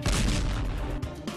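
A drone-dropped bomb explodes on a Russian armored vehicle during the war in Ukraine: a loud, booming blast followed by dense, rumbling crackle that keeps going throughout, with a softer secondary thud near the end.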